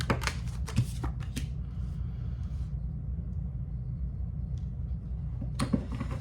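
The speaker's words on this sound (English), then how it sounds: "Just pulling some more cards here." Tarot cards shuffled and pulled during a Libra reading, a brisk run of papery riffles and snaps near the start and again at the end, with a low rumbling hum underneath throughout.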